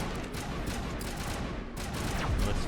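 Dense gunfire in the Mass Effect video game, shotgun blasts mixed into a steady, loud barrage of rapid shots and combat noise lasting throughout, with no voices.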